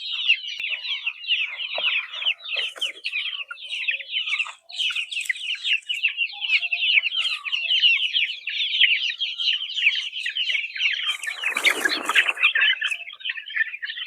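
A flock of chickens on a poultry farm clucks and chatters continuously and close by, with dense overlapping calls throughout and a brief flurry of louder squawking near the end.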